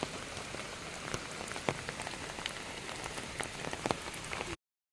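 Heavy rain pours down steadily, drumming densely on surfaces with scattered louder drops striking close by, continuous and without voices until it cuts off near the end.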